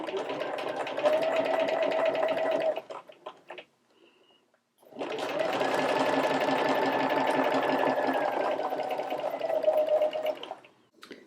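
A sewing machine stitches vegan leather under a non-stick foot in two rapid, steady runs of loud whirring and needle chatter, separated by a short quiet pause, up close.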